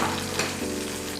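Lamb roasting in a hot pan gives off a dense, continuous sizzle and crackle, close and steady throughout with no voices.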